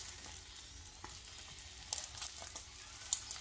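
Eggs fry softly in a mediocre omelet pan, a steady faint sizzle with a few small crackles and pops, heard alone at close range with no talking.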